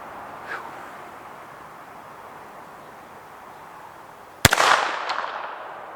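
A single sharp report from a .22 NAA Mini Revolver fired toward a 100-yard silhouette target at an outdoor range, a sudden loud crack with a brief ringing tail after several seconds of quiet outdoor background.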